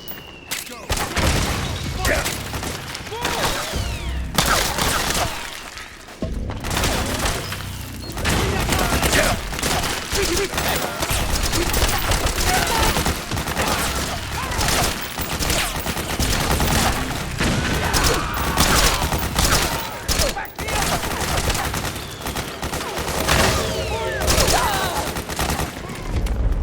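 Sustained heavy gunfire and explosions in the Metal Gear Solid 4 video game, dense bursts of rifle and machine-gun fire rattling continuously and loudly, with shouted voices mixed under the barrage.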